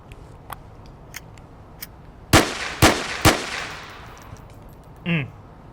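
Three loud, sharp gunshots in quick succession at a shooting range in the VR game Onward, each ringing out with a short decaying tail, with a few faint clicks before and a brief clatter afterward.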